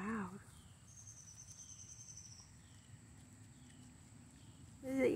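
Cicadas drone outdoors in a thin, steady, high-pitched buzz that carries on quietly in the background, with brief louder sounds from someone nearby at the start and end.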